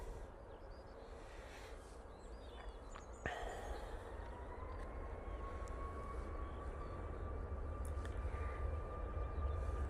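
A Ryanair jet begins its takeoff roll at Manchester Airport, a faint distant engine rumble swelling into a rising, steady whine that grows gradually louder.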